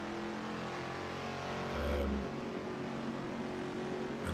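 A heavy car in Assetto Corsa laps Sebring International Raceway, its engine a steady mid-level drone that swells briefly as it revs, then settles back, heard alone without talk.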